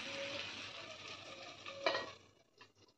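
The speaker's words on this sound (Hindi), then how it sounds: "5 मिनट के लिए अब ढककर और कुक कर लेते हैं, ताकि ये जो प्याज और टिंडे हैं अच्छी तरह से भुन जाएं" Onions and tinda (Indian round gourd) cooking in a pan for a dry masaledar sabzi, giving a steady close sizzle with a brief louder scrape of stirring, then quieting as the pan is covered.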